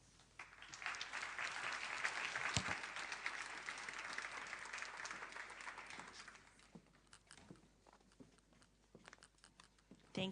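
An audience at a business pitch competition applauds after a pitch. Fairly soft, dense clapping swells and holds for several seconds, then thins out and fades with a few scattered claps.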